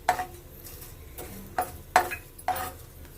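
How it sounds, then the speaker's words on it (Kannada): Rice poured into a pan where fenugreek seeds are frying, heard as a few sharp, close scrapes and clinks of a spoon against the pan over a faint background, with no talking. "ಅಕ್ಕಿ ಹಾಕ್ತಾಯಿದ್ದೀನಿ, 1 ಚಮಚ ಆಗುವಷ್ಟು."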